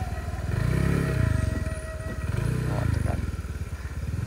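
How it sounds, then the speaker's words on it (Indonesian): A Honda Vario 125 cc scooter labours up a steep hill in slow, congested traffic in West Sumatra. Its engine gives a loud, close, throbbing drone that swells and eases in two long surges. "Ini Vario 125 cc membajak sana."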